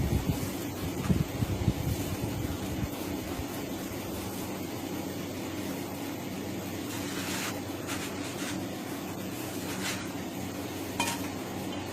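A homemade flour tortilla sizzles on an overly hot skillet with a steady, soft frying hiss throughout, plus a few faint scrapes and clinks near the start and some light ticks later, no voices.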